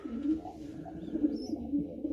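Pigeons coo softly in a pigeon loft, low rolling calls repeating in a steady rhythm close by, with a faint high chirp over them.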